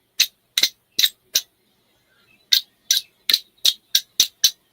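A flint striker scraped against the rod of a whistle-equipped fire starter, making sharp, bright rasping strikes: four quick ones, a pause, then about eight more in a steady rhythm, close and clear.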